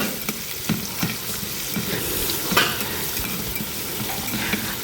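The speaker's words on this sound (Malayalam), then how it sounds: "ഉപ്പിട്ടു, നന്നായിട്ട് ഇളക്കുക. വീണ്ടും നന്നായിട്ടൊന്ന് വഴന്ന് കിട്ടട്ടെ." Onion and garlic sautéing with salt in a pan for a masala curry, a dense close sizzle with scattered utensil scrapes and taps as it is stirred.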